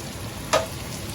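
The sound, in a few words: tuna steak searing in melted butter in a hot pan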